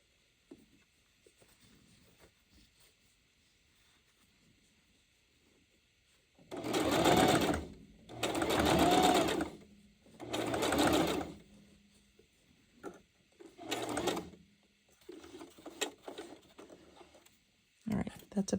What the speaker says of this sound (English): back stitching right there because I'm actually going to be going over the top of that one